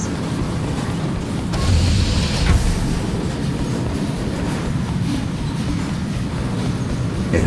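A futuristic Intratube train pulls into a station in the video game Ghostrunner, a loud, steady rumbling roar with a brief hissing surge partway through and no voices.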